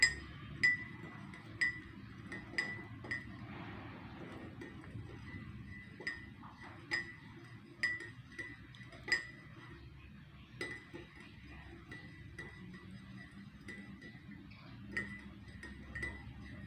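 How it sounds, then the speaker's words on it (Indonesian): Salt being stirred into water in a glass makes a series of light, sharp clinks about once a second, quiet and close, with soft rustling between strikes. "Kemudian kita aduk."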